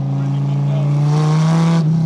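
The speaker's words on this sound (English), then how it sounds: "What a crazy car. Sounds like a V10 when you get on it." A tuned sports car engine in Milan drones loudly and rises steadily in pitch as it accelerates, heard from close up, with a voice speaking over it.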